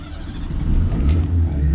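A Fiat 147 engine on a test track rumbles low and steady right after starting, a close, loud idle with a slight rise in revs.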